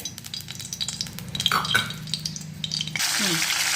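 Curry leaves, garlic and mustard seeds crackle and sizzle in hot oil in a home kitchen pan, with stirring clatter and spattering pops, then a louder steady hiss in the final second.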